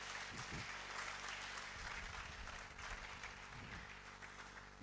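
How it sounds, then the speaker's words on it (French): A church congregation applauds after a scripture reading during a sermon, a faint, steady wash of clapping with a few low thumps, heard from some distance. "On peut applaudir la parole du Seigneur."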